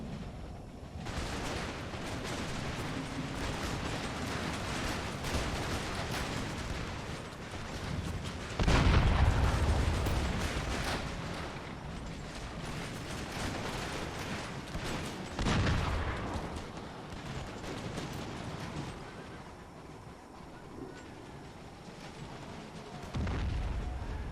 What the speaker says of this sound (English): We got their mortars attacking because apparently they didn't feel like staying on their mortar.